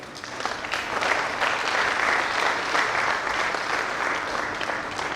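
An audience claps steadily to welcome two retiring colleagues onto the stage at a farewell ceremony, a dense, sustained round of applause lasting throughout with no voices over it.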